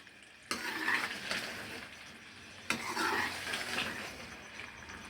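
Aloo palak, potatoes with spinach and yogurt, frying in a pan with a steady sizzle that swells in two bursts as the food is moved or stirred, fairly close and with no talk.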